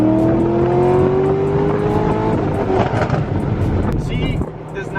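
A Corvette Z06 accelerates hard in first gear, its engine note climbing steadily, loud and close, before the revs drop away near the end.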